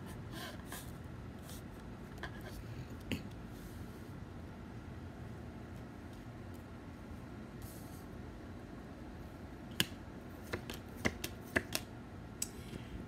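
Tarot cards being shuffled by hand: a continuous soft riffling and rustling throughout, with a few sharper snaps of cards near the end and no talk.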